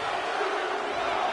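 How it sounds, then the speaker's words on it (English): Arena crowd noise in a WWE 2K25 wrestling match, a steady, loud roar of chanting fans that holds for the whole moment with no break. "The crowd chanting one more time."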